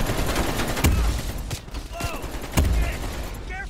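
AK rifle fire in the Black Ops Cold War campaign, a few sharp loud bursts separated by brief pauses, with game sounds in between and no talking.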